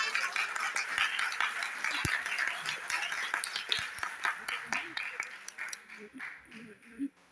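Audience clapping at an Urdu poetry gathering (mushaira), scattered sharp claps that thin out toward the end, fairly faint, with voices speaking over them.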